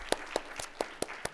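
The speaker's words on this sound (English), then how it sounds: "Let's give another round of applause." Audience members clap for presenters at a patient safety and quality fair, six sparse, evenly spaced claps ringing out clearly over a quiet room.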